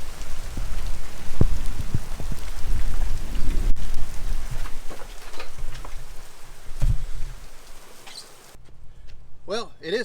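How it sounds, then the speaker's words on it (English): A heavy Florida thunderstorm pours rain in a dense, steady hiss, with low rumbles of thunder rolling underneath, close and loud throughout. "every 12 minutes we get a thunderstorm"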